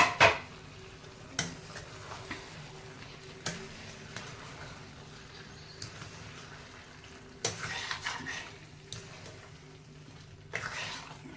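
Beans and carrots tumble into a cooking pot for vegetable biryani, followed by soft scraping stirs and several sharp metallic clinks against the pot at irregular intervals, fairly quiet and close.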